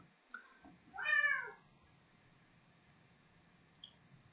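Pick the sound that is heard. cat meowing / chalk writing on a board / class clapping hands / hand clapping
cat meowing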